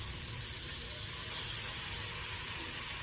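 Steady sizzling and frying hiss of chopped bottle gourd and ground pork cooking together in a hot pan, continuous and close with no pauses, alone without talk.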